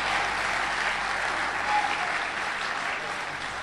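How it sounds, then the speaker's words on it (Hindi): Audience at a Hindi poetry recital breaking into steady applause, a dense wash of many hands clapping continuously at moderate loudness with no speech over it. "और अब आपकी तालियां उठेंगी।"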